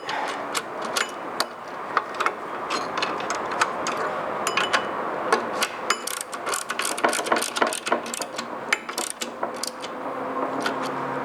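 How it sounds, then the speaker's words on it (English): A wrench ratchets repeatedly while tightening bolts on a Perry motorcycle roller starter, rapid metallic clicking in uneven bursts, close and fairly loud throughout. "I'm going to check each bolt to make sure that it's good and tight"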